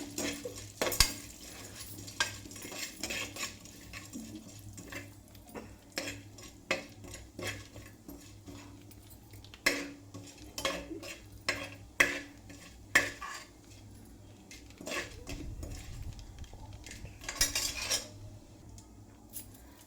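A Telugu-style tempering for Kerala-style pongal fries lightly in a pan under a faint, low sizzle, broken up by frequent scrapes and clinks of a spoon stirring against the metal.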